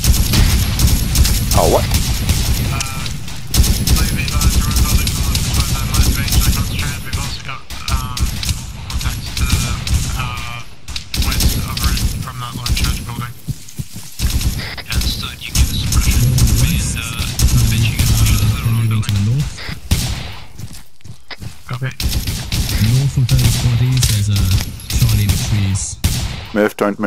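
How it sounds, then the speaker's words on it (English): Dense, continuous gunfire and grenade blasts in an Arma 3 battle, loud bursts and booms layered throughout, with occasional voices talking over the combat. "Trippy, start shooting out there. Frag out, frag out."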